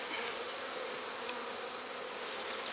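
Honeybees drone in a dense, continuous buzz throughout a hive cutout inspection and swarm nuc check, close and steady with no voices.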